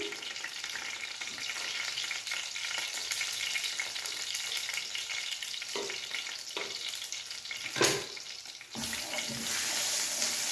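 Steady sizzling of hot oil in a pan with occasional scraping and clinks as a dal tempering with turmeric is stirred, close and continuous.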